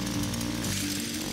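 A video-game flashlight built like a lawnmower, charged by holding a key, drones with a rough, buzzing motor whine that holds steady, then drops in pitch near the end, loud and alone.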